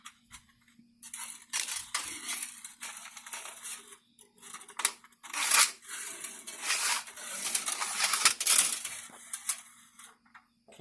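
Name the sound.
fish tape being fed through square tubing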